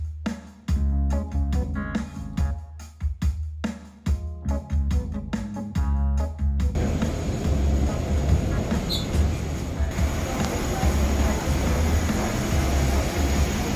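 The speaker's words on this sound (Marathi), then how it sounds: "प्लेनमध्ये एंट्री करता करता अजून एक प्लेन उडताना दिसले" An airplane takes off at an international airport. Sharp rhythmic pulses come first, then a broad, steady roar that holds loud and continuous to the end.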